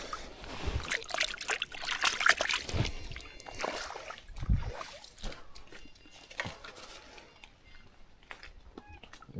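A hand is rinsed in water while fishing, giving soft splashes and trickling drips close by, loudest early and then thinning into faint patter.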